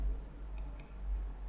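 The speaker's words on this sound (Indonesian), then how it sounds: "Kemudian kita klik bagian berikutnya yang ini, kita klik." A computer mouse clicks twice in quick succession, crisp and close, over a low steady hum while a Google Forms survey is being set up; no one speaks.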